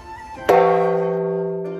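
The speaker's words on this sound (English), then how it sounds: "hear the shrine gong" Shrine gong at a temple in Nara, Japan, struck once with a sharp attack, then a long ringing tone that slowly fades, heard alone and close.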